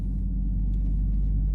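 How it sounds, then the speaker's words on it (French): Audi RS3 stage 2 tuned to 480 hp, its five-cylinder engine growling at low revs while cruising gently, a steady deep rumble heard close and alone. "le feulement du 5 cylindres déjà"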